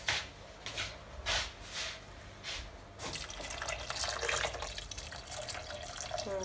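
Tap water pours into a pot of vegan minestrone soup being cooked: first in short sputtering gushes, then as a steady, continuous splashing stream filling the second half, fairly close.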